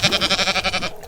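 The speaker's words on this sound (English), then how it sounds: "The creature bleated." A goat bleats once in a loud, close, quavering call of rapid pulses lasting about a second.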